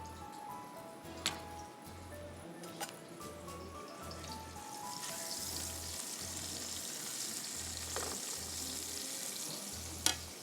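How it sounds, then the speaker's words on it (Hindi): White cumin, bay leaf and whole garam masala crackle in hot oil for a quick pulao, a soft continuous sizzle with a few sharp pops, under a steady pulsing low thump. "इसमें अब हम डालेंगे सफ़ेद ज़ीरा, तेज़ पत्ता, एक"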